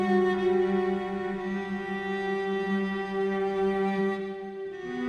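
A solo cello plays long, sustained bowed notes up close, warm and resonant, with a brief pitch change near the end and no other instruments.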